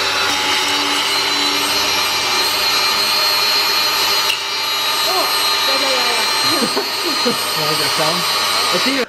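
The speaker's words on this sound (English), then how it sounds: "So we're taking a die grinder to it to grind out the back of the alternator so you can fit it in the bracket." A die grinder whines loudly and continuously as it grinds out the back of a car alternator so it fits a bracket, the high-pitched tone shifting slightly under load, with some voices partly buried in the noise.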